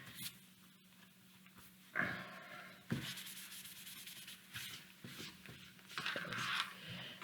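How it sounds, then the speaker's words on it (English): A tool rubs back and forth across a sheet of cardstock in short, dry scraping strokes at close range, several passes with brief pauses between them. "I like to burnish it on both sides."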